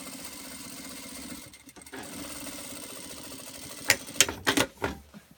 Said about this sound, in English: Okay, and just sew right across it.